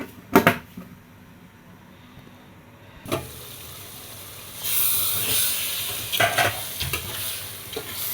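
A pot of vegetable sauce cooking sizzles and hisses with steam, broken by a few close knocks and lid clatters, then the hiss swells louder under the cover.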